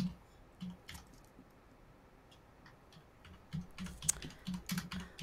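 A computer keyboard is tapped in scattered short bursts, soft close key clicks with pauses between, growing busier toward the end.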